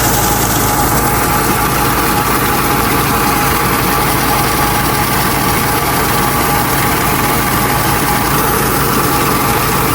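A rice harvester's engine runs steadily while unloading grain, giving a loud, continuous, close-up diesel drone and rumble with a constant hum and no talk.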